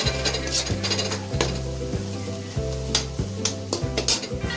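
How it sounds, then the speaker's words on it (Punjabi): Turmeric and spices stirred and roasted in a pan for homemade aloo gobi, a continuous sizzle with rhythmic scraping strokes of the spoon, close and fairly loud, with no speech. "ਹੁਣ ਅਸੀਂ ਕਰਦੇ ਆ ਜੀ ਇਹਨੂੰ ਮਿਕਸ ਤੇ ਇਹਨਾਂ ਨੂੰ ਚੰਗੀ ਤਰ੍ਹਾਂ ਭੁੰਨਾਂਗੇ ਜੀ"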